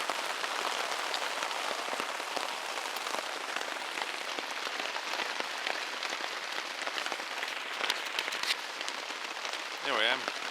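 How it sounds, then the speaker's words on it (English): Heavy rain drums steadily and densely on a tent or tarp during a wet overnight camping trip in Britain, with a continuous loud patter and a brief voice near the end. "it's proper raining now"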